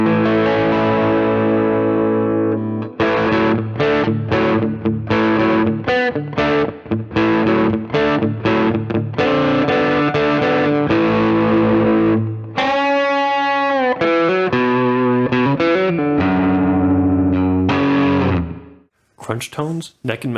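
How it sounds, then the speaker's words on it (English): An electric guitar on its middle pickup plays a crunchy, distorted riff of chopped chords and single-note runs, loud and upfront, ending in a brief pause and a final stab. "Crunch tones, middle pickup."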